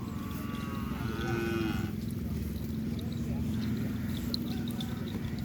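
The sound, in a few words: cattle in a pen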